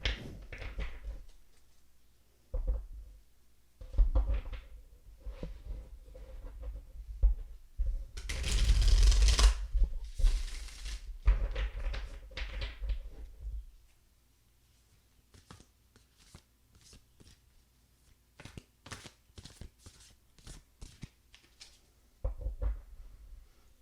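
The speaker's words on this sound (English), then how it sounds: "I love the sound of shuffling cards." Tarot cards being shuffled in several bursts, one long loud riffle in the middle with softer flicks and taps before and after.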